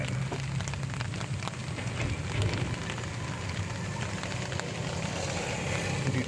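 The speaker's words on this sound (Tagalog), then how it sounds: "At ngayon na lang medyo humina yung ulan." Steady afternoon rain patters on surfaces outdoors at a field where fodder grass is being cut, a constant dense hiss with a low rumble underneath and no voices.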